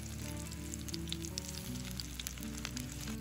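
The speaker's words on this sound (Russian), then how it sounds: "Ну и пока это все жарится," Slices of eggplant fry in a pan outdoors in a forest, giving a steady, dense sizzle with faint crackles throughout, moderately quiet and with no voices.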